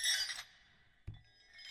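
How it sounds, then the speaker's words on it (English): A Glass Crush sample played from the MNDALA 2 sampler: a bright, crunchy burst of breaking glass up front, then a low thud with a ringing glassy tail and another crackle at the end, with no voices. "Let's try the Glass Crush."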